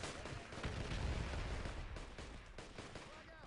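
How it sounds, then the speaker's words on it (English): Grenade blasts and gunfire in the military shooter Project Reality, a dense, continuous din of booms and shots with rumbling low end running throughout. "Another grenade."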